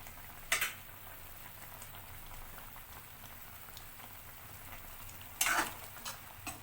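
Kala jamun made from chhena simmer in sugar syrup on the stove, giving a steady soft bubbling and fizzing, with two brief louder clatters, one near the beginning and one near the end.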